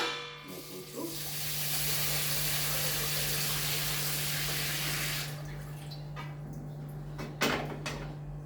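Tap water gushing into a pot in a home kitchen for heating, a loud continuous hiss for about five seconds over a low hum, then stopping, followed by a few clinks and knocks.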